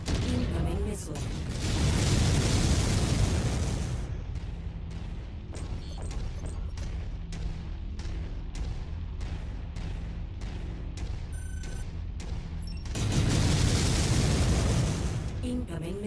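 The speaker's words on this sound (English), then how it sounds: "Incoming missile." Missile explosions in a mech combat video game: heavy rumbling booms roll at the start and return near the end, with a quieter stretch of rhythmic mechanical thuds and clanks between them, no voices.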